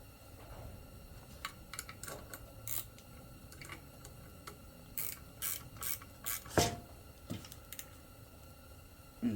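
A ratchet snugs down a serrated M5 nut with a brass washer on a 1990-93 Honda Accord race shifter, giving scattered faint clicks and brief scrapes, irregular and close, over a quiet background.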